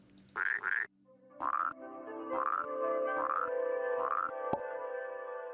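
A frog flute croaks in the video game Rusty Lake Paradise, giving a run of about six bright, hollow, reedy croaks spaced roughly evenly over a sustained tonal drone, clear and unaccompanied by talk.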